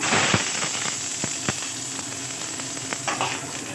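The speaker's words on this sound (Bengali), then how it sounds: "এখানে যে তেল আছে তার মধ্যে আমি বেগুনগুলো দিয়ে দেবো।" Eggplant pieces hit hot oil in a kadai and fry with a strong, close sizzle, scattered crackles and pops spitting through it at an uneven rhythm.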